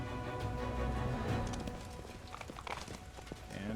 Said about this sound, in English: Get on the horse, please.